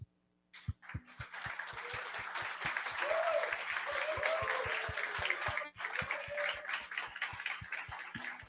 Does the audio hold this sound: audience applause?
yes